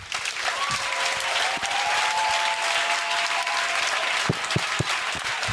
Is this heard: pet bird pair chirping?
no